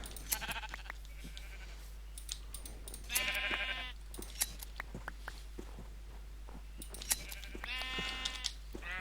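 Sheep in a Minecraft modpack bleat in three distinct wavering calls spaced several seconds apart, fairly close and clear over a faint steady background hum.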